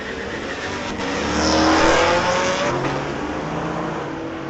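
A 2017 Camaro on a street-legal drag strip at Mission Raceway Park, its engine roaring loud and steady as it accelerates, swelling to a peak midway before easing slightly, with a faint tire squeal.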